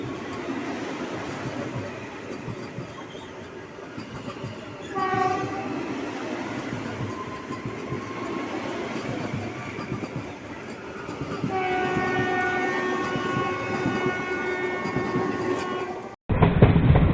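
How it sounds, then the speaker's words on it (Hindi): A Vande Bharat Express on the Dehradun–Anand Vihar run rumbles past steadily with continuous rail noise, its horn sounding briefly midway and again in a longer blast, heard from fairly close by. "ये है भाई साहब अपनी देहरादून आनंद विहार वंदे भारत एक्सप्रेस"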